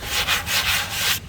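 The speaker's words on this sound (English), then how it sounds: "I'm gonna start by sanding it down a little bit" Hand sanding on painted wood furniture, a steady back-and-forth rubbing in repeated strokes, close and fairly loud, stopping abruptly near the end.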